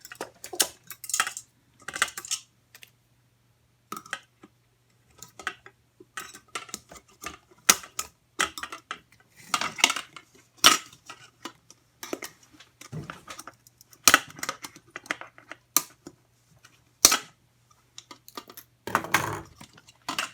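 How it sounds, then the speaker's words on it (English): Scissors snipping apart plastic zip ties that hold a small protector on a chick brooder: a close run of sharp, irregular clicks and snaps with short pauses between cuts, heard alone. "Scissors. I'm going to cut apart the zip ties holding this little protector in place."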